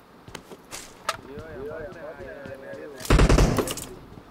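Gunfire in a video game: a few sharp isolated shots early, then a loud dense burst of rapid fire near the end, with a voice talking between.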